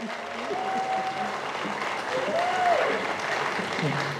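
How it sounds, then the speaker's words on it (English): Applause from a gathering of locals at an outdoor protest against wind farms in Bunbury, Western Australia, moderate steady clapping that carries on for several seconds at a modest distance. "So a huge round of applause for Sophia Mamond."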